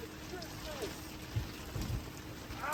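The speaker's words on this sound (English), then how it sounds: "You have no idea how much it's raining from inside the car." Heavy rain falls on a car, heard from inside as a steady, muffled drumming on the roof and glass, with brief vocal sounds and a few faint bumps.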